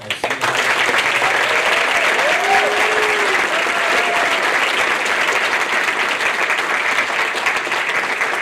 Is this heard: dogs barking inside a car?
no